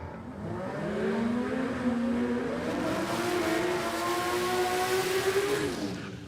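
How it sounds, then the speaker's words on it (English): A drag car does a smoky burnout at a no-prep drag racing event at Warwick Dragway, Australia, its engine roaring loud and sustained with a slowly rising pitch and a gritty tire-spin edge, with no speech. "Nice big smoky burnouts both sides of the track."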